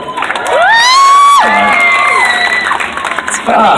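A crowd at a hypnotist show at the Arizona State Fair erupts in loud cheering, with high whoops and shrill shouts over sustained applause, swelling and then gradually tapering off.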